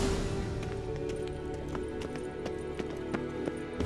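Rhythmic hoofbeats of a horse galloping at a steady pace over a constant background hum, with no voices, in The Witcher 3: Wild Hunt.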